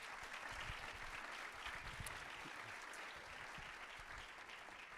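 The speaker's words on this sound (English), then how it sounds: "How about a round of applause for all the judges?" A faint, distant round of applause fills a room at a business elevator pitch competition, an even wash of many hands clapping throughout, with no voices over it.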